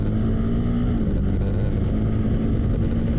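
A 2015 Can-Am Spyder RS-S three-wheeler engine runs hard at full throttle, a loud steady drone whose pitch shifts slightly partway through, with no talk.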